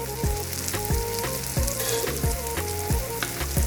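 Turmeric and masala powder fry in hot oil for onion bhaji, giving a loud steady sizzle broken by regular stirring scrapes about every half second, with no talk.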